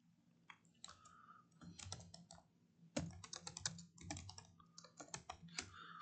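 Typing on a computer keyboard, close and clear, with irregular clusters of quick key clicks and short pauses throughout, no talking over it.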